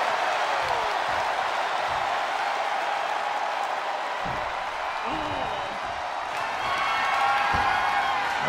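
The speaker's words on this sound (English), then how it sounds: "What a raucous crowd here tonight." A simulated wrestling arena crowd in the WWE 2K24 video game cheers and claps during a title match, a steady, moderately loud roar running throughout with brief whoops rising near the end.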